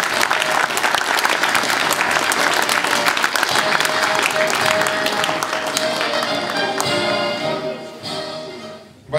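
An audience at a 2008 sobriety conference in Nizhnekamsk gives a medal recipient loud, sustained applause, a dense crowd of clapping that thins out and fades toward the end.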